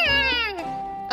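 A cartoon cat gives a single drawn-out meow that slides downward in pitch, loud and close, heard alone with no talking.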